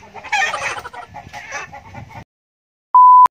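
A chicken clucks in a quick, busy run for about two seconds at close range, then goes quiet, followed by a brief sharp tone near the end.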